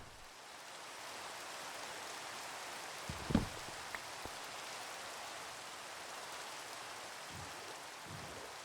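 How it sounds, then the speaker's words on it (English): Steady video game rain hiss fills the scene, with a few brief louder taps and thumps standing out now and then. "Really want it to stop raining."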